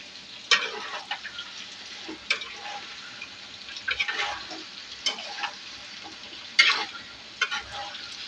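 Tomatoes sauté in a pan with a soft, continuous sizzle, punctuated by irregular scraping stirs of a utensil against the pan, close and moderately quiet.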